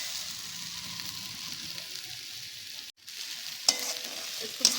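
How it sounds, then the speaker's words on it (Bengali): Potatoes and onions sizzle in hot oil for biryani, a soft continuous frying hiss broken by a brief gap and a couple of sharp clinks of a spoon stirring the pan near the end. "এখানে আলু বিরিয়ানির জন্য ওই আলুর পেঁয়াজটা ভাজা হচ্ছে।"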